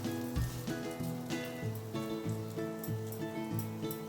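Fritters of pointed gourd leaves fry in mustard oil, a soft steady sizzle with faint crackling and a rhythmic series of gentle thumps, quiet and close.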